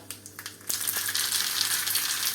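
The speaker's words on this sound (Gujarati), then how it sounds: "તેલ ગરમ થઈ ગયું છે અને તેમાં આપણે અડધી ચમચી રાય" Mustard seeds hit hot oil for a tempering and break into a loud, dense sizzle with crackling pops that carry on to the end, following a few soft clinks.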